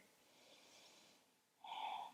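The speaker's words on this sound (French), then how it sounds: "Revenez à votre respiration Ujjayi si vous l'aviez perdue." Ujjayi breathing during a yoga flow: a soft, faint, airy breath that swells gently, then a sharper, brief audible breath toward the end, close and quiet with no talking.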